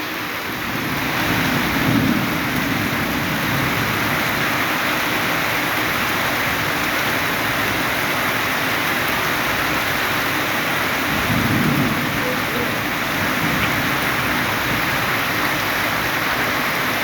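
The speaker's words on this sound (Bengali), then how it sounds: "এই সেই বহু প্রতীক্ষমান বৃষ্টি।" Heavy, steady rain roars without pause over a long stretch, with a couple of low thunder rumbles swelling beneath the downpour, as the street floods; no one talks.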